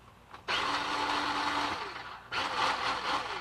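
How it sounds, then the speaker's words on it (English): A kitchen food processor whirs loudly in two runs: a steady motor drone of about two seconds, a brief pause, then a second burst, with no talking. "I gotta remember how my food processor works"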